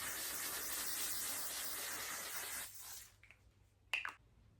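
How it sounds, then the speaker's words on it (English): Long-lasting mist face setting spray hissing in a continuous fine burst for about three seconds, then stopping, followed by a brief soft rustle. "Set your face with long lasting mist face spray."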